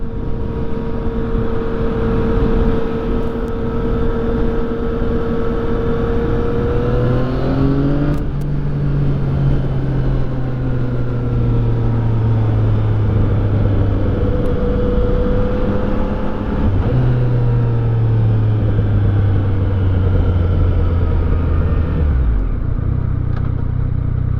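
Yamaha FZ-09 motorcycle engine on its first ride, loud and close, revving up through gears with rising pitch sweeps, dropping at each shift, over steady wind rush.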